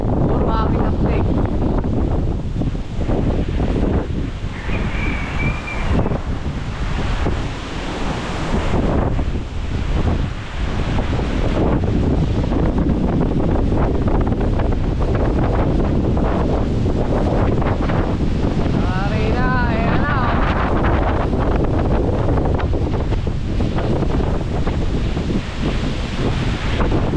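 Strong typhoon wind roars and buffets the microphone continuously, with gusty rumbling throughout and faint voices now and then.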